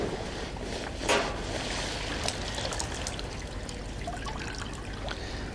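An anti-microbial protective suit is rinsed in clean water, giving a steady wet swishing and trickling, with a sharper splash near the start and a few soft clunks.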